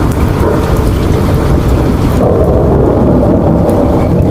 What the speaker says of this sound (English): oh boy, I'm already hearing the thunder.